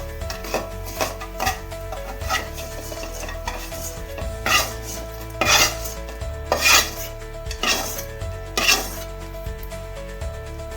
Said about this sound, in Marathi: पण मसाले भाजले आहे, काढून घेऊया आपण आता